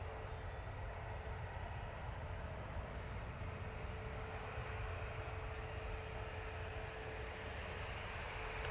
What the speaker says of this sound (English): We do have our first prop landing of the day. Logan R ATR 72.